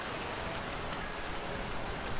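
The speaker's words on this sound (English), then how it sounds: "This sounds like heavy rain based on the sound" Heavy rain in the Final Fantasy XII remaster, a steady, dense wash of noise that holds at an even level throughout with no distinct drops or breaks and no voices.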